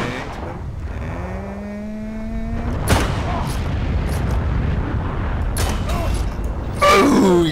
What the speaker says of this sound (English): Nice shot with Panzerfaust.